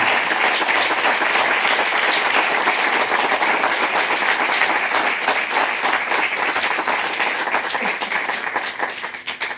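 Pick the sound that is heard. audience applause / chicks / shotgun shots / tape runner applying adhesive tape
audience applause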